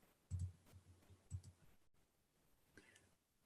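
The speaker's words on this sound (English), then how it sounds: "notice I'm clicking my mouse here and I'm right clicking, left clicking" A computer mouse is right- and left-clicked: two sharp, close clicks come in quick succession, followed by a few fainter taps in a quiet room.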